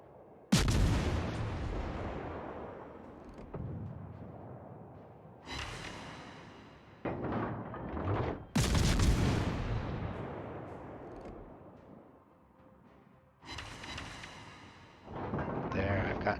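Heavy warship gun salvos in a naval combat video game, several loud booming blasts with long rumbling decays spaced through the stretch, a game voice alert and other game sounds mixed in.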